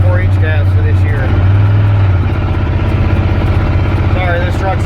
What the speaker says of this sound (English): Sorry, this truck's kind of loud.